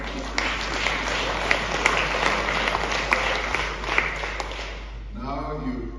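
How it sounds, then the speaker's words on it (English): A large crowd of Free State delegates claps steadily for KwaZulu-Natal, a dense roar with scattered sharp claps, before it cuts off and a voice begins speaking over a low hum. "I also want you as the Free State to applaud KwaZulu-Natal"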